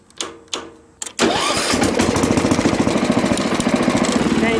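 A Wheel Horse garden tractor engine cranks in two short bursts, catches on the third try and settles into a loud, steady, rapidly pulsing idle close to the microphone.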